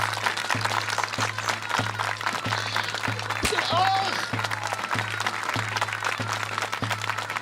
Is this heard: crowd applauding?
yes